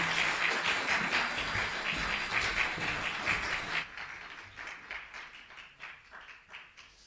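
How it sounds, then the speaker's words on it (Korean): Applause fills a church youth service hall as students walk forward, a dense steady clapping that thins into scattered claps after a few seconds. "우리 고3 우리 학생들 들어갈 때까지 힘차게 박수해 주시고"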